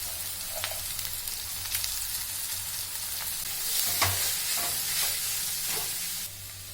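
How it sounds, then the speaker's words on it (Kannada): Greens are stirred into golden-brown fried onions in a hot pan for a Karnataka-style leafy palya, with a steady soft sizzle and several sharp scrapes and clinks of the spoon against the pan; no speech. "ಈಗ ಸೊಪ್ಪು ಸೇರಿಸ್ಕೊಳ್ಳೋಣ. ಈ ಥರ ಹಾಕ್ಕೊಂಡು ಸೊಪ್ಪು ಕಲಿಸ್ಕೋಬೇಕು."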